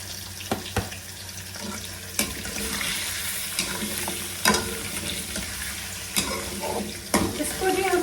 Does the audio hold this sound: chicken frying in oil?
yes